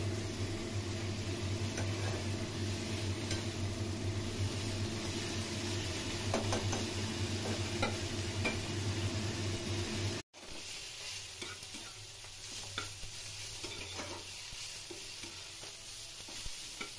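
Fourteen leafy greens (chodda shak) frying in a pan with salt and turmeric: a continuous close sizzle with scraping stir strokes and a low steady hum, broken by a brief cut midway, no voices.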